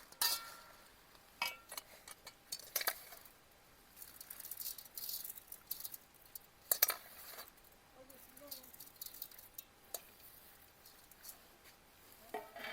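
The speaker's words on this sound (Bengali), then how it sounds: "লবণ একসঙ্গে মাখিয়ে চামচ দিয়ে ভালোভাবে এটাকে মেখে নিচ্ছি" A spoon works salt and ground spices into a green chilli pickle, giving faint, scattered clinks, rattles and soft scraping against the container in a quiet room.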